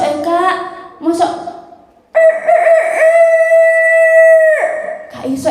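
A voice imitates a rooster crowing with a long, sustained, loud cock-a-doodle-doo in a single drawn-out call, during a read-aloud storytelling session. Brief talk comes just before and after it.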